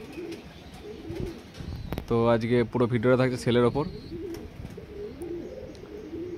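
Madrasi pigeons give a burst of throaty cooing calls, close and fairly loud, in a loft at a home, while someone talks before and after.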